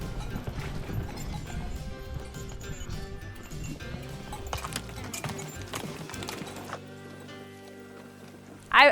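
Pack horses walking along the Gana River in the Northwest Territories, hooves clip-clopping in an uneven rhythm. Soft background sounds run beneath, and a brief loud knock comes at the very end.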